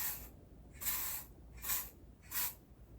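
Dry shampoo from an aerosol can sprayed onto a face in three short bursts, each a bright hissing spray about half a second long, separated by brief quiet gaps and heard close.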